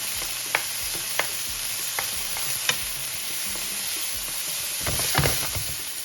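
Bacon, onion and garlic sizzle steadily in a hot pan as a side dish for Brussels sprouts is started, with sharp scraping and tapping clicks from a utensil stirring now and then.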